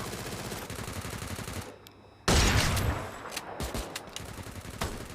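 Rapid gunfire from the Free Fire video game comes in dense bursts, loud and close, with a brief lull before the shooting resumes.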